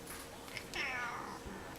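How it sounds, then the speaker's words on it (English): A pet cat gives a single drawn-out meow, close and moderately loud against a quiet room. "This is my cat."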